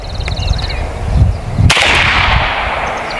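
An AEA Defender 2 air rifle fires one shot at a target: a single sharp, loud crack about midway, followed by a hissing, broadband tail. A short electronic beep pattern sounds near the start.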